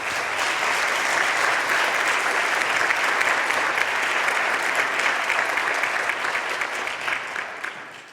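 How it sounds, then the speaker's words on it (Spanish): A conference audience at an urban mobility congress gives warm applause, thick continuous clapping from many hands that holds steady for several seconds and then gradually fades out. "Un aplauso para ellos, por favor."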